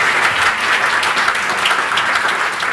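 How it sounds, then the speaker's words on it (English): An audience applauding the hosts of a podcast, loud dense clapping that holds steady without pause, with no talk over it. "go ahead, clap it up for the homies"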